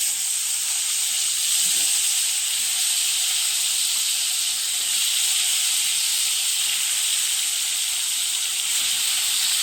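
Garlic sizzling in hot oil with fish masala in a home Maharashtrian kitchen, a steady, loud, hissing fry that runs unbroken throughout with no voices.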